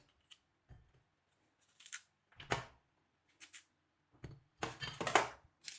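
Several crisp sounds of eggplant being cut and sliced at irregular intervals, close and fairly quiet, with short gaps of near silence between them.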